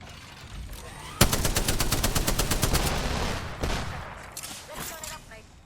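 A Sheila minigun spins up and fires a rapid, dense stream of shots in a video game, loud and close, then trails off into background game noise.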